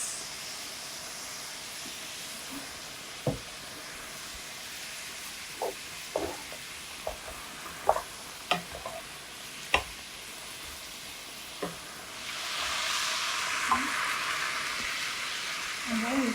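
Celery and black fungus stir-frying in a pan give a steady low sizzle broken by scattered sharp clicks and taps of the spatula, then a louder surge of hissing near the end, close up with no talk.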